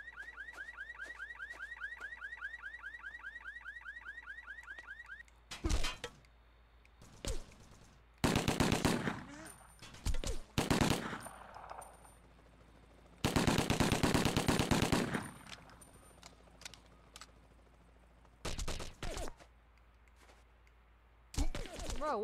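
Gunfire in the video game 25 To Life comes in repeated loud automatic bursts of varying length, set against a wailing siren-like alarm early on, with short gaps of quieter background between volleys.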